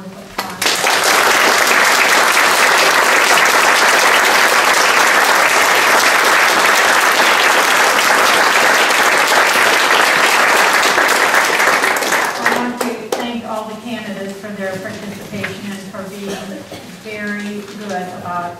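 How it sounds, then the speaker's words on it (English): An audience at a League of Women Voters candidate forum applauds loudly and steadily for about twelve seconds, then the clapping fades as a speaker begins talking. "Let's give a big round of applause"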